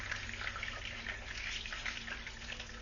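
Chicken cordon bleu fries and crisps in a pan of hot oil, a dense, steady sizzle heard close and continuous, with no pauses.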